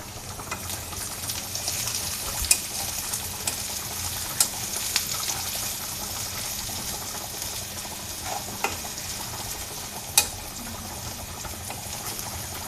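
Dried fish (shutki) frying in oil in a pan: a soft continuous sizzle with occasional sharp clicks and scrapes of stirring, fairly quiet and close, with no talk.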